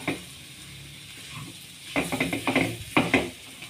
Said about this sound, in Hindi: मैदे को इस तरह थोड़ा सा हम भून लेंगे